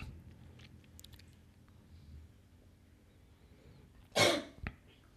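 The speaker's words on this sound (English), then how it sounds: "Just note the cough sound." A single sharp cough bursts out near the end of a mostly quiet stretch during a meditation sermon, followed by a brief smaller sound.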